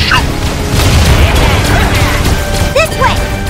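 A cannon gets shot down in the video game Skylanders Trap Team: a loud booming crash with clattering impacts and bursts amid game music and effects, fairly dense throughout.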